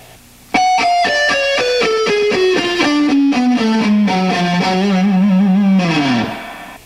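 Rapid picked notes on a distorted, effects-laden electric guitar tumble downward in a steady fast run and settle into a sustained low note before dropping away, loud and close with no talking.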